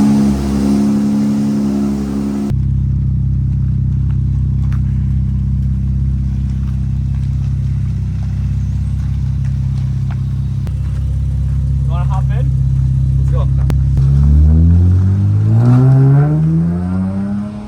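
A 2023 Nissan 400Z engine revs hard and steadily while driving, loud and close, with a rising whine near the end as the revs climb again.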